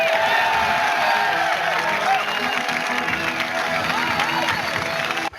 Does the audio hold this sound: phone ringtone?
no